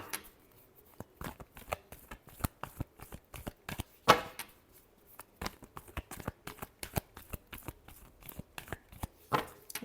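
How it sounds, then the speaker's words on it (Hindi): Cards are shuffled for a tarot-style reading, giving a rapid run of crisp riffling snaps and flutters, close and fairly quiet, with irregular bursts and brief pauses and no voices. "Last shuffle."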